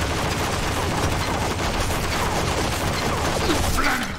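Dense, continuous gunfire in the Stranglehold action game, a steady wash of overlapping shots and crashes at high volume across the whole stretch, no clear gaps between bursts.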